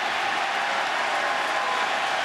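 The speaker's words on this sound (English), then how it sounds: "the crowd cheering rather derisively in support of Smoltz" A baseball crowd at an Astros versus Braves playoff game cheers and roars derisively in support of pitcher Smoltz and against the home plate umpire, a steady, dense stadium noise that holds at the same level throughout.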